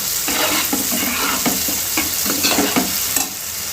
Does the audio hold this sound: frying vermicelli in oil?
yes